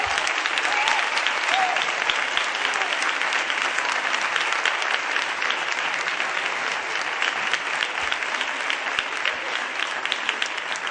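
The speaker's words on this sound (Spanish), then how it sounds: "Así es que un aplauso." Long, even applause from an audience honouring the Villafranca Municipal Band, a dense wash of many hands clapping continuously without pause for over ten seconds.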